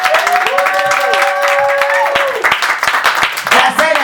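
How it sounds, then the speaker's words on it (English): An audience claps and cheers for Sandra Diaz at a community gathering in Newark, with steady applause and scattered voices and whoops layered over it for several seconds. "Clap it up for Sandra Diaz, y'all."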